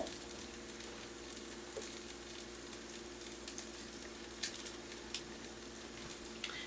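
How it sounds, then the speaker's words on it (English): Vegetarian patties browning in a pan on the stove give a faint, steady sizzle with a low hum underneath and a few soft pops and ticks scattered through, with no talking. "then just brown them on the stove. So we're just gonna let these brown"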